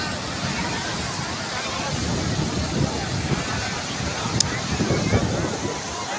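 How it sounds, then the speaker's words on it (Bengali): Big sea waves crash and wash in a continuous roar mixed with wind buffeting the microphone, with faint voices of a crowd murmuring in the background. "কত বড় বড় সাগরের ঢেউ"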